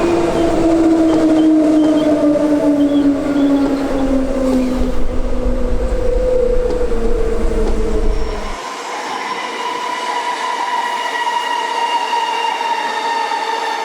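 A Perth A-series electric suburban train passes on a line with dual-gauge track, with loud steady rumble, a falling motor whine, wheel and rail noise, then a quieter whine as it draws away.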